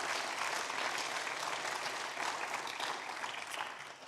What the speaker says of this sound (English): can we have an extra round of applause for all of our finalists so far?